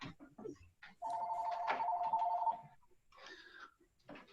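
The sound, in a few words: telephone ringing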